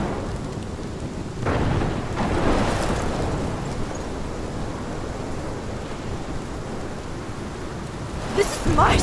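A thunderstorm in Life is Strange: steady heavy rain hisses throughout while rolling thunder swells and rumbles in a few loud bursts, one early and another near the end.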